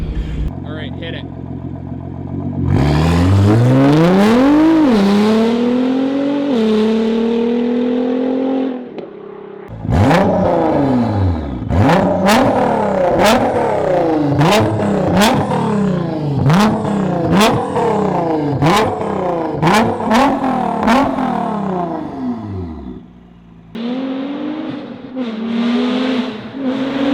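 Nissan R35 GT-R with a straight-piped exhaust, revving loudly, rising through first gear and then downshifting with a rapid series of sharp pops and cracks, close and very loud, with a voice talking over parts of it.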